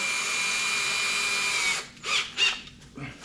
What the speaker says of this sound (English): So go ahead and put that in your drill.